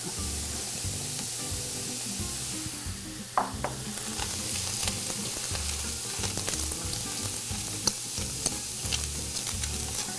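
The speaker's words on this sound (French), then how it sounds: "On va pouvoir mettre les autres légumes. Donc les oignons, les asperges," Onions, asparagus and other vegetables stir-frying in a hot pan give a steady sizzling hiss, broken by a few clinks and scrapes as the pan is stirred.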